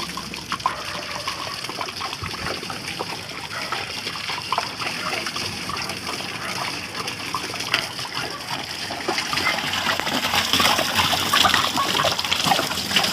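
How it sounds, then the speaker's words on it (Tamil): Water is poured from a can onto a 4x12 speaker box, a continuous splashing and trickling that grows louder and fuller toward the end, close by with no voices. "ஒரு கேன் இல்லை 2 கேன் தண்ணி ஊற்றுறேன்."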